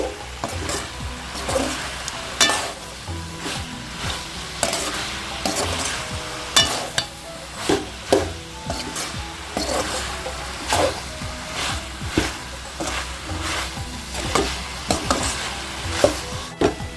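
Mutton being sautéed for Chettinad gravy, with a spoon stirring and scraping the pan in repeated rhythmic strokes over a low background sizzle, close and fairly loud, no talking.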